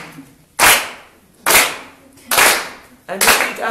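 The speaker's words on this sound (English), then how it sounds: "then clap your hands" An audience clapping hands in unison: four loud, sharp claps spaced evenly just under a second apart, each ringing briefly before the next.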